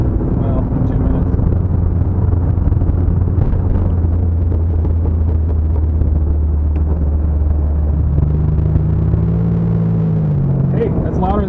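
A car's exhaust drones steadily under buffeting wind noise while driving, a loud, constant low rumble with a brief shift in pitch near the end, and no distinct talk over it.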